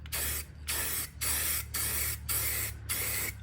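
Spray paint hissing onto furniture fabric in six short, steady bursts separated by brief pauses, close and loud with no talking.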